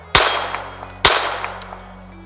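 Two sharp pistol gunshots about a second apart, fired with a two-handed thumbs-forward grip, each a loud crack followed by a ringing, echoing decay.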